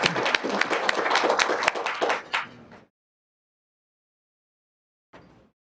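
Audience applause for a sponsor at a petroleum engineering society's monthly technical meeting: a dense burst of clapping for about two seconds that tapers off and stops, then silence and a brief faint noise.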